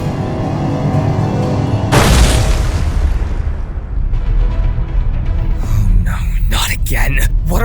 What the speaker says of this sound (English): What are all those explosions?